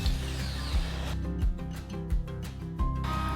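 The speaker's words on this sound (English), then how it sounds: "I use the track saw to do this." Track saw trimming the breadboard ends of a wooden table top: a sustained motor whine with repeated sharp thuds and short surges as the blade cuts along the edge, close and loud.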